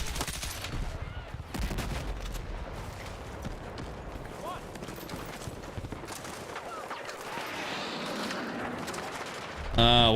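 Gunshots in the shooter video game Battlefield 6 crackle as scattered rapid bursts and single shots, fairly distant and low in the mix, while someone talks over the battle noise, ending with a louder burst.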